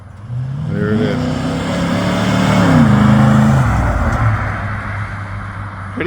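A hot rod car with electrical problems drives past on a test drive, its engine rising from a distance to a loud nearby rev with shifting pitch, then receding into low rumble.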